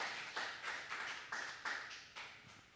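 A Korean church congregation clapping in a Sunday worship service, a faint, distant series of about seven sharp claps in a loose steady rhythm, each fading quickly.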